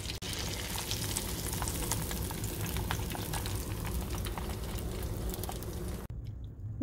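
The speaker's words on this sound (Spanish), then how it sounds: "Continúo friendo hasta terminar." Cheese-stuffed onion rings fry in oil in a pan, a steady close bubbling sizzle that holds loud and even for several seconds before cutting off near the end.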